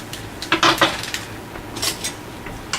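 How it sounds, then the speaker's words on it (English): A sautéed duck dinner salad is stirred in a pan, with quick metallic scrapes and clinks of a utensil against the pan in short irregular bursts, close and fairly loud. "Stir that up a little bit."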